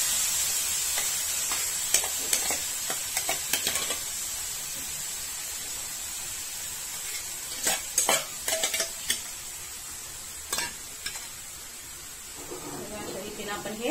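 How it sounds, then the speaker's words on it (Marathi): Grated bottle gourd sautéed in ghee over medium heat for a sweet halwa, with a soft steady sizzle and intermittent scraping stirs of a spoon against the pan, clustered in short bursts. "अशा रीतीने आपण हे तुपावर चांगला दुधीचा किस हा परतवून घ्यायचा 1-5 मिनिट मध्यम गॅसवर."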